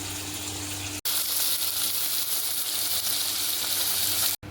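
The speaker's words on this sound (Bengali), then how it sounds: "দ্বিতীয় খোলা মাছ ভাজার জন্য দিয়ে দিয়েছি।" Fish frying in hot oil in a home kitchen, a steady loud sizzle and hiss that runs unbroken, with two brief sharp dropouts in the sound.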